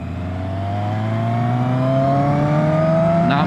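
Yamaha Maxim 700 four-cylinder cruiser motorcycle engine revving hard, its loud whine climbing steadily in pitch for several seconds before a brief shift near the end, with no talking.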